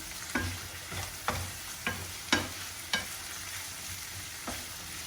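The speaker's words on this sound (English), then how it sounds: "I'm going to add a little bit of the preserving vinegar to the mix as well" Preserving vinegar goes into a hot pan of cooking onions for a spicy spaghetti sauce, with a steady sizzle underneath. About half a dozen sharp scrapes of a utensil stir the pan at irregular intervals.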